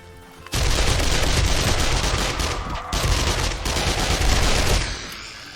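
SMG gunfire in 7 Days to Die, loud dense bursts of rapid shots filling nearly five seconds, with a brief break midway before the firing resumes and then cuts off.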